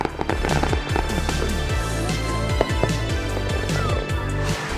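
Rapid fireworks explosions at the Albuquerque Balloon Fiesta, launched from two areas of a field, many booms and crackles in quick succession, loud and continuous with overlapping bursts.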